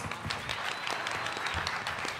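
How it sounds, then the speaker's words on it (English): A panel audience breaks into steady applause, a dense wash of many hands clapping at once, fairly close and unbroken throughout the short burst. "Can we give our panelists a round of applause?"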